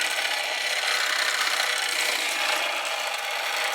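A friction-drive toy car's flywheel whirs in a steady, loud, buzzy grinding rasp that runs unbroken throughout, close up and alone.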